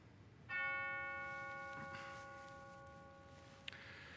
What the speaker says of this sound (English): Let's begin our worship this morning with the calling bell.